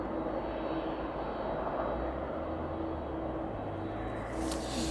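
An airliner departing East Midlands Airport for Cincinnati gives a sustained, broad engine roar with a steady low hum, heard from a spotting position and rising slightly near the end.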